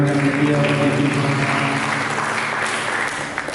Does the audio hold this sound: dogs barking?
no